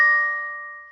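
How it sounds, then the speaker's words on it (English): A phone notification rings out with a single bright ding, a clean metallic tone that starts sharply and slowly fades away, close and alone. "That's my phone. I need to turn that on silent."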